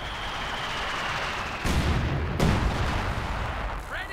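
A rifle grenade bursts in the World War II strategy game Company of Heroes 2, a sudden loud blast followed by a second crack over constant battlefield rumble and distant gunfire.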